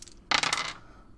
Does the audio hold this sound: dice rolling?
yes